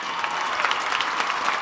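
An audience at an IFPA Bhojpuri award show in Dubai claps to welcome presenters onto the stage, a dense and even burst of applause heard close and alone.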